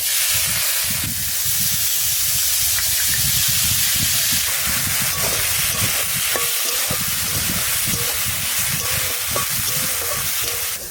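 Prawns coated in salt and turmeric sizzle and hiss steadily in hot oil, a loud, continuous frying crackle with occasional stirring clatter.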